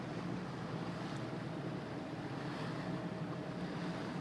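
Steady wash of water and wind around a boat as its wake makes waves, a broad continuous rushing noise close to the microphone, with no voices.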